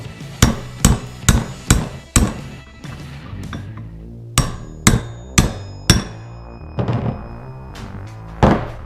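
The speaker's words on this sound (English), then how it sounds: "Tap the bearing hole." A hammer taps a wheel bearing into the hub of a Kawasaki KFX 700 ATV in a series of sharp, close metallic knocks, some quick and clustered, others spaced apart with short pauses.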